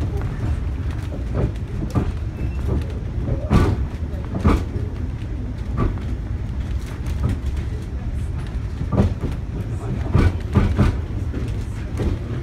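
A Strasburg Railroad passenger train pulls away, with a rumbling roll and a regular clatter of wheels over rail joints under a continuous background hum.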